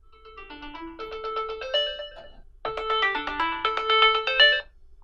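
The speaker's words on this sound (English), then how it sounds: "my phone starts ringing" A smartphone rings close by after a button press on an Ekster tracker card, playing a bright melodic ringtone in two loud bursts separated by a short pause.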